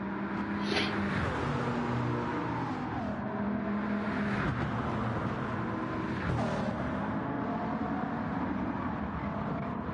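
Bugatti and Peugeot race cars in a racing video game scream past with high, rising and falling engine notes. Tones sweep as the cars shift gears, and the layered whine holds steady and fairly loud throughout without talk.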